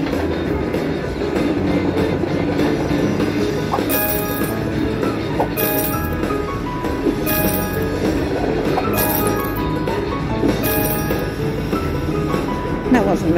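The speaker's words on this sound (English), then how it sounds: "You better be a long bloody train." The Luxury Line Cash Express slot video game plays a train effect, steady rolling rail clatter with bright chiming clinks repeating at regular intervals, loud and continuous throughout.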